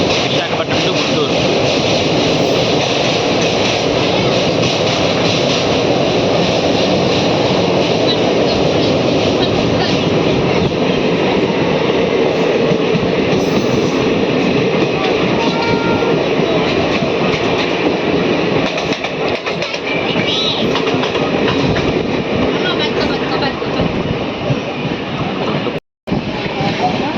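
Simhadri Express train running from Visakhapatnam to Guntur, heard from inside as a loud, continuous rumble with rattling carriage noise and faint clickety-clack, sustained throughout with only a brief dropout near the end.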